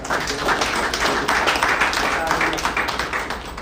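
An audience at a professional assembly gives a round of applause, with uneven clapping under a speaker's voice over a PA.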